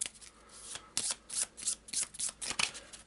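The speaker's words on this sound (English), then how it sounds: "I'll give it a quick shuffle" A deck of game cards for the board game Darkest Night is shuffled by hand in quick riffles and soft flutters, close and fairly quiet, in a series of bursts.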